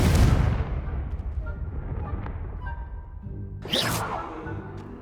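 Confringo fire spell exploding in the Hogwarts Legacy video game, a loud booming blast that decays into a rumbling tail, followed by a second sharp whooshing burst near the end.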